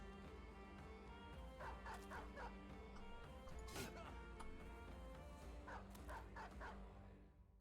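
Dogs in the Battle Brothers video game bark and yip in short bursts over a dense, steady layer of game music and effects.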